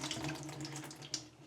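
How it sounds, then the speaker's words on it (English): Water gushes and splashes steadily out of a clogged kitchen sink's removed U-trap drain pipe, a close, continuous rushing flow with a brief louder splash near the end. "I'm seeing all this water backing out through the U-trap"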